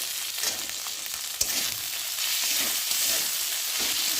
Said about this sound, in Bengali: টমেটোটা দিয়েছি তো টমেটোর সাথে মশলাটা একটু ভালো করে ভেজে নেব।